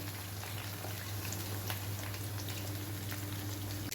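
Stuffed brinjal curry simmers on low heat in a pan, a faint, steady bubbling hiss with soft pops throughout.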